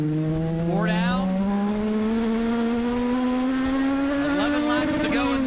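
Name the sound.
race cars racing at Charlotte Motor Speedway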